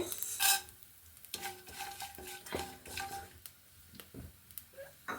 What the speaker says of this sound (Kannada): ಎಣ್ಣೆ ಕಾದಿದೆ ಸಾಸಿವೆ ಕಡಲೆಬೇಳೆ